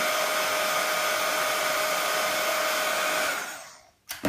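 A hot-air heat tool blows with a steady loud whoosh over polymer clay being heated for a raku-style ceramic imitation, running for about three seconds before cutting off, followed by a brief clatter.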